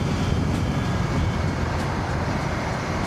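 A metro train rumbles overhead as a broad, steady roar near an air force station and airstrip outside Bengaluru, loud and continuous with no voices.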